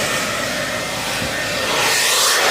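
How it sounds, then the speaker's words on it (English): A handheld blow dryer runs steadily nearby, a loud, even rushing hiss of blown air that swells slightly toward the end, with no one speaking. "it's amazing what a blow dryer can do"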